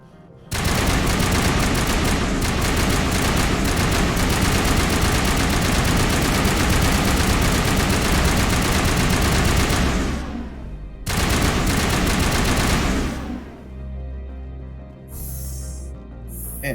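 Sustained automatic gunfire from the Mass Effect video game, loud and dense for about ten seconds, breaking off briefly, resuming, then tapering into quieter game ambience.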